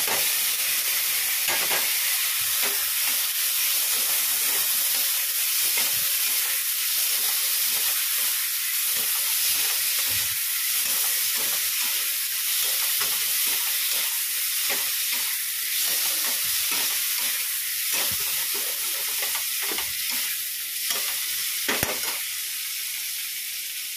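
Pointed gourd and potato fry in a hot pan with a loud, steady sizzle and hiss that runs the whole time. Occasional stirring clatters break through it, and nobody speaks.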